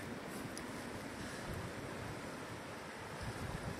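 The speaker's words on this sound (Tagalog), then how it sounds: "Lakas ng tubig." Strong, steady rush of flowing water with waves on an outdoor morning ride, loud and continuous throughout with some wind noise and no talking.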